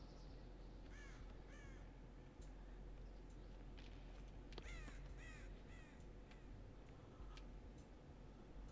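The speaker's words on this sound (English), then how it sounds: "Wish there weren't so many freaking crows." Several crows caw in short, harsh double and triple bursts, fairly faint and distant over a low rumbling background, with irregular gaps and occasional ticking clicks.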